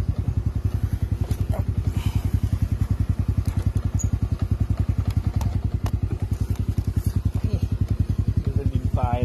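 A Honda Wave 100 or Forza 300 motorcycle engine runs close by on sandy dirt ground, with a rapid, even low thumping pulse that stays loud and steady throughout.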